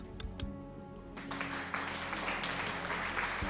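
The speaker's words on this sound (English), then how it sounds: "Why are people being applauded?" A crowd claps in the city-building game Cities: Skylines, a steady wash of applause that grows fuller after the first second and carries on over a low background hum.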